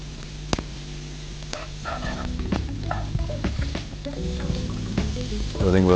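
Chopped onion, ginger and garlic sauté in a pan for crispy corn, giving a steady close sizzle broken by sharp stirring taps and scrapes.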